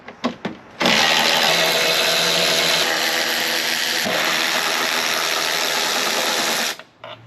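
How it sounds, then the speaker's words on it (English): A power driver fitted with a T40 bit spins out a bolt in one continuous whirring burst of about six seconds, loud and close, preceded by a few short clicks. "Using a T40, go ahead and remove the 4 bolts."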